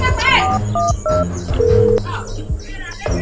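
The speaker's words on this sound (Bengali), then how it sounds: "আগে ফোন দিয়ে লই নাজমুলিয়া রে" Keypad tones beep as a phone number is dialed: a few short, distinct tones, then a longer one, with a voice speaking between them.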